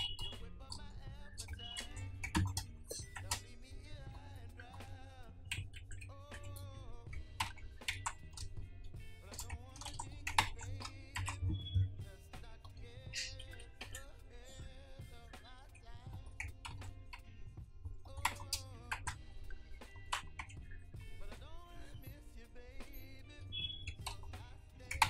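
Computer keyboard typing during an Adobe After Effects session, soft scattered clicks and short bursts of keystrokes running steadily throughout at close range with no talking.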